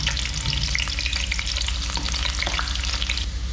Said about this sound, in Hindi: ये तेल गर्म ही है, उसमें मैंने प्याज डालना है, आधा प्याज है वो मैं डाल देती हूँ।